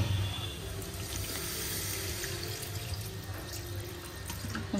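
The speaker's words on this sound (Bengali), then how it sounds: "তো এটা হয়ে গেছে, আমি একটু জল দেবো।" Water pours steadily into a pan of potato curry, a continuous close splashing flow like a running tap that holds at an even level throughout, with no talking.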